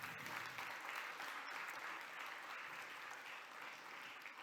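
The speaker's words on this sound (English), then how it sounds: "So I want another round of applause for these amazing founders" A startup conference audience gives a round of applause, steady and continuous. The applause is faint and distant, as if heard through a live-stream feed.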